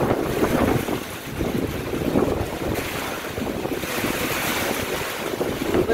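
A strong wind and rain storm buffets the microphone with loud, continuous roaring gusts and rushing noise during railway duty, with no voices.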